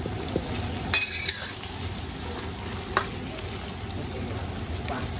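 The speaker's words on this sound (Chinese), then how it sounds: "我们小时候的猪肉就是这样子炒的，什么都没有，放点酱油下去就很香很香。" Pork sizzles steadily as it is stir-fried in a wok with soy sauce, a constant crackling hiss punctuated by a few sharp clinks of the spatula against the pan.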